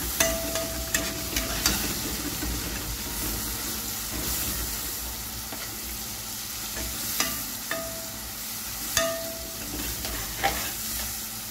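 Sauce is stirred in a pan as fish fries, with a soft continuous sizzle underneath and scattered scraping and clinking of the utensil against the pan, close and fairly quiet.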